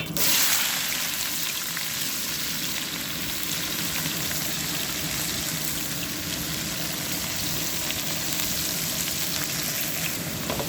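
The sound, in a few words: onions frying with bay leaf for chicken biryani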